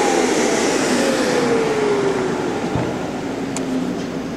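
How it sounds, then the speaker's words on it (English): Ruwac DS2720-EX explosion-proof industrial vacuum with a cyclone drum running, a loud steady roaring whoosh with a whine that slowly falls in pitch as it settles, and a brief clunk partway through. "We're ready to turn the vacuum on."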